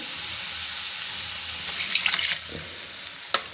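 Water pours steadily into a kadai with a continuous rushing splash, four cups of water added to rice for veg pulao, followed by a few light metallic clinks near the end.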